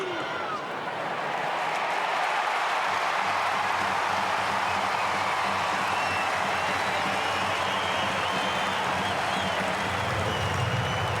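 Crowd roaring and cheering at an AFL football match between St Kilda and Carlton as Carlton takes the lead, a dense, loud sustained swell of stadium noise with some voices mixed through it.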